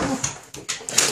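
A puppy whimpers and whines in several short, high, nasal bursts at close range, each cry separated by brief pauses.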